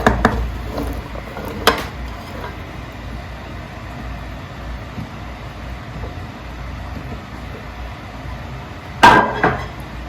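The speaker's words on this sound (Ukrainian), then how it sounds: "И теперь высыпаю картофель." Potatoes for a potato, meat and mushroom dish are tipped into a multicooker bowl, giving a few sharp clattering bursts near the start and a louder tumble near the end over a low background hum.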